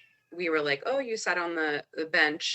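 A pet cat meows in the background, its call mixed beneath a woman's close, continuous talking and hard to pick out from the voice.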